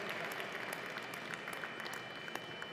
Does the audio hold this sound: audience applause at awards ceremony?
yes